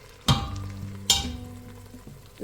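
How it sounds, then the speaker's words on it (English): Efo riro vegetable soup with fermented locust bean being stirred as it fries on low heat in a pot, giving soft sizzling under a few sharp utensil scrapes and knocks, close and alone. "continue to let this now fry on low heat"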